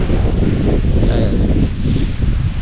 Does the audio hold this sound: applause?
no